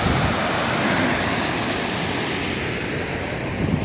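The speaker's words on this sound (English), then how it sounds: "get a really good video of this water as it's coming down into the Lowhead Dam" River water rushing down over a lowhead dam in downtown Dayton, Ohio, a loud, dense, unbroken roar heard up close, with some wind buffeting on the microphone.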